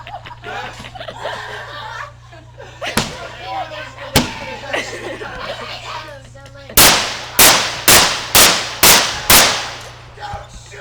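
Staged dynamite blasts at a train robbery show on a tourist railroad: a rapid series of about six loud, sharp booms near the end, following earlier cracks amid crowd chatter and laughter.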